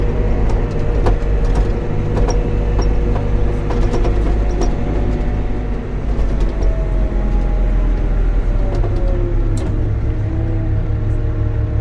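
A CAT TH460B telehandler on a test drive after a hydraulic pump replacement, loud steady engine drone with rumbling and clanking close by, no voices.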